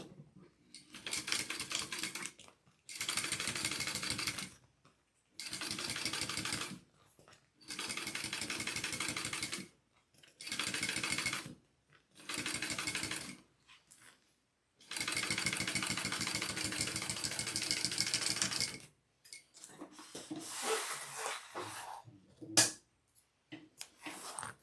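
Sewing machine top stitching a fabric panel, running in a series of bursts of rapid needle rattling separated by short pauses, close and moderately quiet, with a few shorter uneven stitches and clicks near the end.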